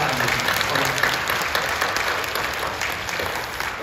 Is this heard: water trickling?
no